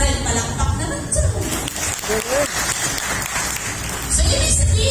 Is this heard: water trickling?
no